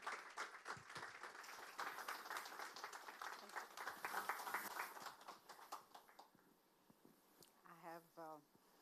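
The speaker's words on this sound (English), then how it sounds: "Can we have a huge round of applause?" An audience in a hall at a mutual funds association event applauds as a speaker comes on stage, a dense, sustained clapping that fades toward the end, followed by a brief voice over a microphone.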